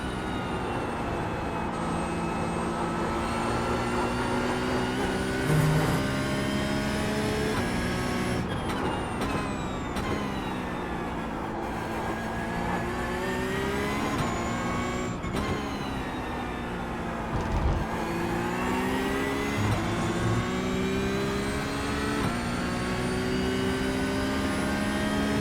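Porsche GT3 Cup 992.1 race car engine lapping Sebring in iRacing, a loud continuous engine drone with rising and falling pitch through gear changes and corners, steady and close throughout with no talking.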